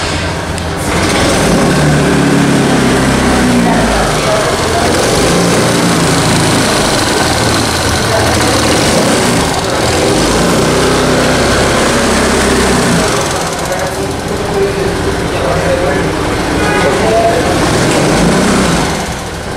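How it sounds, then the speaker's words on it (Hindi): Vespa VXL150 scooter running close by, its small engine putting out a loud, steady puttering exhaust note with slight rises and dips in revs over about twenty seconds, with no talking. "सर, इसका एग्जॉस्ट साउंड सुना सकते हो?"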